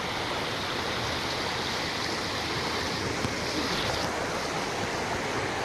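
Rushing creek water flows steadily beside a trout-cleaning spot at a cooking camp, a dense continuous splashing wash, loud and close with no pauses or voices.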